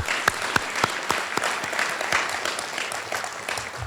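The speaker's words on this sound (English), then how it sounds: "So give her a round of applause" Steady crowd applause at a college business alumni awards ceremony, a full wash of clapping with a few louder near claps standing out, no talk.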